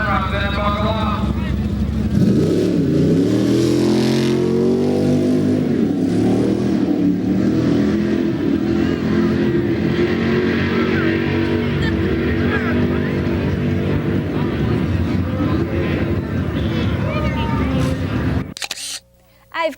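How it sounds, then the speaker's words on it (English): A Chevelle race car accelerates and revs hard at close range on a timed run, its loud engine roar continuous for nearly the whole stretch before cutting off abruptly near the end. "That was an awfully fast car to drive."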